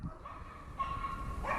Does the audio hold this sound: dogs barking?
yes